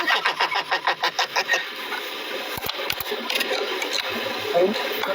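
A motorcycle engine starts with rhythmic cranking pulses, then catches and runs with a rough, revving exhaust roar close by, with voices briefly audible under it.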